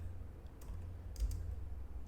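Typing on a computer keyboard while entering a date into an Excel sales invoice: a few soft, scattered keystrokes over a quiet room hum, with no talking.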